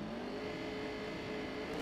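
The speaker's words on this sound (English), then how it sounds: "One board on its side, revs come up." Open superbike engines revving together at the start of an AFM race: a dense, continuous roar with a steady whine, loud and unbroken, with no voices.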